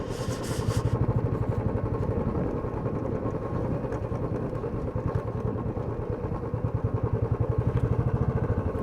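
A motorcycle ridden on a steep sloping road: a steady, loud engine putter with rapid regular thumping throughout, close up, with a brief rattle at the start and no voices.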